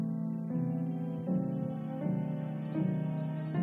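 Orchestral score piece from Phantom Thread: soft, lush sustained chords that shift gently every second or so, warm and mellow with no voices.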